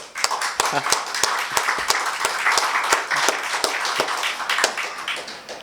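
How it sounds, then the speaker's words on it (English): Audience members at a seminar on wills and trusts clap for the speaker: a moderately sized round of applause with distinct, sharp individual claps, steady and close, with a voice murmuring underneath. "So, can we have a louder round of applause for sir?"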